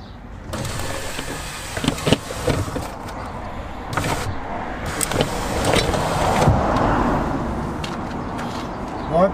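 A rear electric window regulator on a Renault Mégane 2 CC runs under test for about nine seconds, giving a steady mechanical whirring and grinding with scattered clicks and ratcheting ticks, fairly close and without talk.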